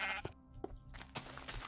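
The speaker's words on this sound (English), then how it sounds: "Man, there's a sheep breeding party over here." Sheep bleating in the video game Minecraft, several short nasal bleats in quick succession, close and clear, with a couple of overlapping calls from nearby animals.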